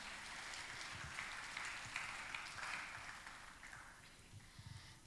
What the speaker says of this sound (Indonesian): Kita beri tepuk tangan yang luar biasa sekali lagi Bapak Ibu.